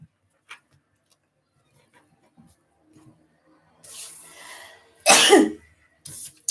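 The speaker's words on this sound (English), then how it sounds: "Just as I said the Cancer, I sneeze" A single sharp human sneeze bursts out loudly near the end, after a few faint rustles and a muffled stretch of breathy noise.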